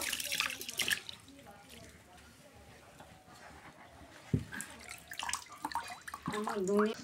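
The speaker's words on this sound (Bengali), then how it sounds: "এরপর আমি এর মধ্যে চালটা দিয়ে দেব।" Rice poured into already hot water in a cooking pot, a soft splashing and trickling of water amid kitchen clatter, heard close under someone speaking.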